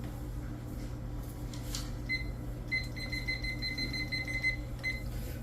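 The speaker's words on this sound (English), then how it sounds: "so we'll set a timer." A timer alarm for a medical test goes off in a quiet room, giving a run of rapid, thin electronic beeps in repeated groups over a low background hum.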